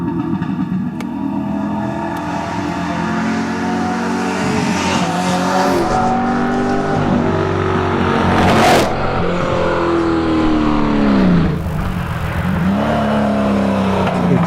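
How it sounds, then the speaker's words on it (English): A Holden Commodore race car climbs a hillclimb course at the Legend of the Lakes event, its engine roaring loud and close throughout. Revs rise and fall through gear changes, with tyre squeal and a sharp burst partway through. "Kylie's Commodore is getting close to that top area now"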